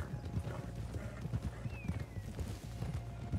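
Horse hooves clip-clopping in a steady rhythmic gait in Red Dead Redemption 2, close and continuous, with game ambience underneath.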